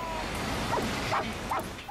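Dogs crammed together in cages in China give three short yelping barks, fairly faint, over a continuous noisy background.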